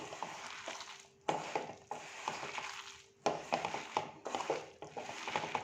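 Spinach fritter mixture of garden spinach, coriander leaves and salt, with no onion or water, kneaded by hand; close, squelchy, irregular bursts of squeezing and mashing with brief pauses between.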